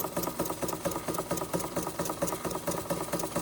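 An antique Bing 130/382 poppet valve steam engine runs at steady speed, giving a fast, even mechanical chuffing and clatter that continues without a break, close by with no talking.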